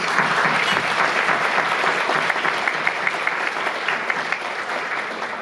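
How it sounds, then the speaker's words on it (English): Sustained applause from an audience at a literacy fundraising event, a dense, even wash of clapping from many hands that holds steady throughout without speech. "Please give them a round of applause."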